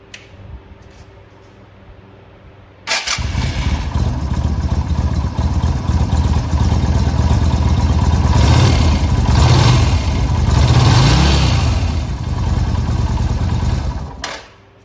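Yamaha V Star 250 motorcycle engine cranks and fires after an oil change, then settles into a loud, steady idle with a slight rise in revs midway before shutting off.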